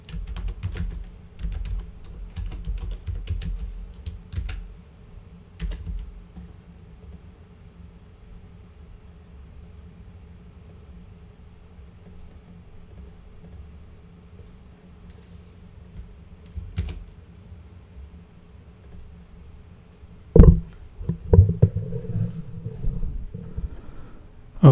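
Light typing on a computer keyboard, a quick burst of clicks at the start, then sparse keystrokes and near quiet, ending with a few louder clatters near the close.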